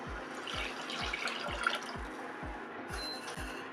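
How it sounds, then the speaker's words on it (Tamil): Tamarind water poured into a pan of simmering sheela fish gravy, a steady liquid splash and trickle with soft rhythmic low thumps running under it throughout. "நம்ம புளி தண்ணி ஊற்றிக்கிறோம்"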